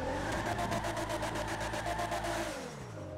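An add-on car engine in GTA 5 revs hard with a rapid, pulsing mid-pitched roar, then drops off sharply toward idle near the end, close and loud with no voices.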